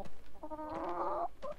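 Chickens cluck close by in short bursts, one drawn-out squawking cluck in the middle, with no talking over them.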